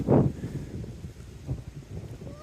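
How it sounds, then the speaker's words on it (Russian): Strong, cold gusty north wind buffets the microphone in low rumbling bursts, steady and close, with no voices, on a river. "Сильный ветер, холодный сейчас идет"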